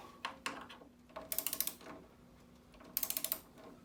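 A ratchet tightens the nuts on a Vaillant ecoTEC pro boiler during servicing, with two quick runs of close, crisp clicks separated by quieter handling noise.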